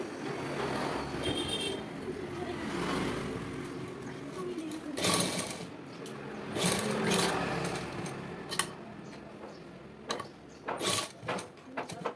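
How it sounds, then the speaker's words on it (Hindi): Sewing machine stitching fabric for a flat collar neck with piping, running in stretches with short pauses and sharp clicks between runs, heard near with a voice talking over parts of it. "तो अब इसके ऊपर रख के अब यहाँ से हमने सिलाई करते जाना है।"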